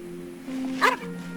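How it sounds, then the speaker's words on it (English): A dog in Genshin Impact gives a single short bark over a steady tonal game background hum, the bark sharp and close amid the ambient music-like drone. "You're just gonna bark?"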